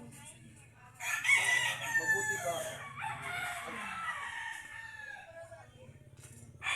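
A rooster crows loudly and raggedly over a low background hum, with a few words spoken briefly nearby.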